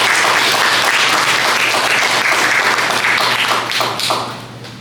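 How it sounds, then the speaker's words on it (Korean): Audience applause fills a room at a Korean political party gathering, steady and loud clapping from a crowd that carries on throughout and fades slightly near the end. "네, 박수 부탁드리겠습니다."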